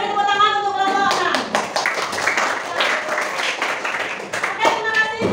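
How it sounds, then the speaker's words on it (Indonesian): A classroom group claps for a presenting team, a burst of brisk, fairly close hand claps that starts after a voice and runs on for several seconds, thinning toward the end as speech returns. "udah beri tepuk tangan untuk kelompok 6"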